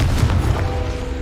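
A single deep, booming blast from the Confringo spell in Hogwarts Legacy, loud and close, with a short rumbling tail.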